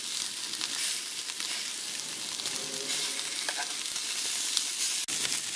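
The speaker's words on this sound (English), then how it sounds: "I open my tortillas and put it in the pan." Tortillas frying in a pan for pork chop tacos, giving a steady, close hiss of sizzling oil that continues without a break, with a faint clink near the end.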